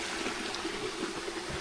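Water from a waterfall flows along a stream channel on a rural property in Calauag, a soft, steady distant rush with gentle gurgling.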